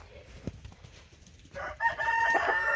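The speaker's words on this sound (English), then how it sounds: "There's the rooster." A rooster crows once in a backyard flock during a winter garden tour, its call rising clearly near the end after a quieter stretch with a brief earlier sound.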